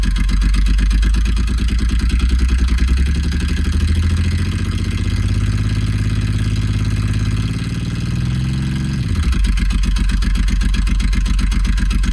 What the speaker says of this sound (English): Yes, that is what this bike sounds like.